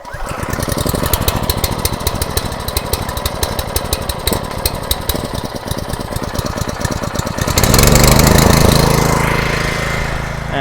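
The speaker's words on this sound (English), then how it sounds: "And the generator is on." A portable generator rated around 2,200 watts runs steadily with a dense, rattling engine drone, growing louder and rougher near the end as it takes on load or revs up, with no voices present.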